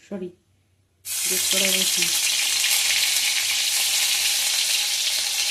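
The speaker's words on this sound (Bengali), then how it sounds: "তেল গরম হয়ে গেছে, গ্রেট করা আদা, গ্রেট করা রসুন" Grated ginger and garlic hit hot oil with a sudden loud sizzle after a second of near quiet, the close, hissing frying holding steady to the end.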